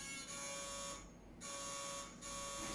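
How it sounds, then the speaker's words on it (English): An electric buzzer drones at a poetry open mic night, a steady flat tone that cuts out briefly twice and then resumes, fairly faint with no voices. "Just wait till the buzzer stops."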